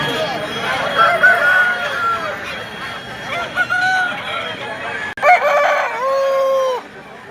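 Roosters crow at a rural poultry market, with several loud drawn-out cock-a-doodle-doo calls rising and falling close by over a background of clucking and crowd murmur.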